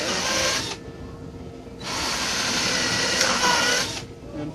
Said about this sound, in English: we have to drill some pilot holes in here